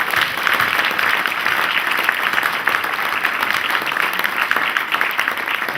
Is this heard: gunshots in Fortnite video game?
no